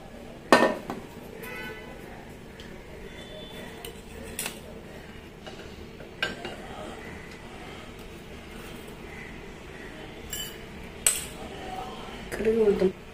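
Metal pots and utensils clink sharply a few times in a home kitchen while tempering oil is readied in a pan for a Tamil banana flower kootu, the sharp clanks scattered over a low steady background.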